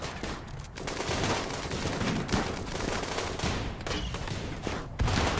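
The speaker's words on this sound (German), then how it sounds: "Knallt den Rest nieder." Sustained gunfire in the RimWorld video game, dense overlapping bursts of shots and machine-gun fire rattling continuously at steady loudness without a break.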